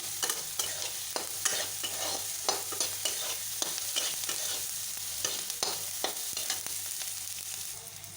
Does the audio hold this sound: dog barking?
no